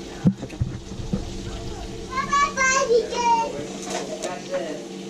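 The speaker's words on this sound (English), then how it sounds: "You guys hear all these people talking in the background?" Many people chatter in the background, including children's voices, a busy mix of overlapping talk at a moderate distance during outdoor cooking of prawns and tilapia, with no single voice standing out.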